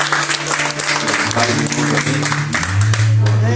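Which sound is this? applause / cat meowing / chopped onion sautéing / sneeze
applause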